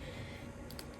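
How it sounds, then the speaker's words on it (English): Faint, quick clicks of keys being typed on a Braille Sense notetaker keyboard, a short cluster of light taps under a steady background hum. "if you hear me typing, it is because I need to look for a file."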